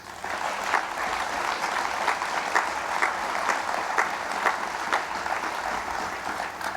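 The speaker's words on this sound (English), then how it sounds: "their entire team deserve a big round of applause" A university audience applauds for an internationalization award team, a steady wash of many hands clapping at moderate volume throughout, with no speech over it.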